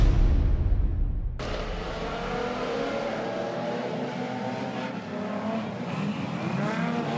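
Race cars roar around a racetrack in a steady, loud engine drone, with a sharp cut as one car passes close before the pack's layered revving continues.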